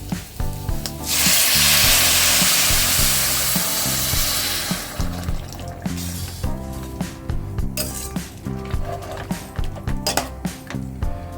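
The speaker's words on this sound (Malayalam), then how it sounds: "ഇനി നമുക്ക് ഇതിലോട്ട് ചൂടുവെള്ളം ഒഴിച്ചു കൊടുക്കാം" Hot water is poured into sizzling gobi manchurian gravy, a loud rushing burst of steam and hiss for several seconds, followed by clinking and scraping stirs of a spoon in the pan under a faint background tune.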